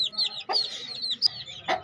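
Hen among chickens and chicks in a backyard coop, giving a few sharp close clucks in quick bursts with short pauses between, loud and alone.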